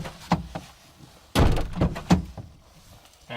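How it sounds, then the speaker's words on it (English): A Toyota FJ Cruiser's driver's door is opened and shut, giving a few solid, close-up thunks and latch knocks spread over a few seconds, with no talking. "Step 3, open and close the driver's door twice."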